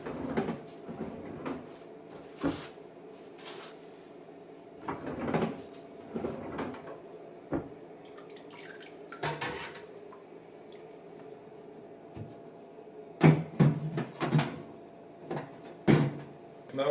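Sous vide pulled pork bags lifted out of a water bath after about 25 hours, with scattered knocks, drips and plastic handling thumps, some sharper clusters near the end, fairly close and quiet overall.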